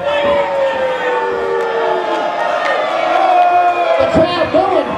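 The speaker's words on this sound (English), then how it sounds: "The crowd booing, showing their disgust for the TVA." A crowd at a live wrestling show at a fan convention boos loudly and steadily, a sustained wall of jeering voices that swells near the end.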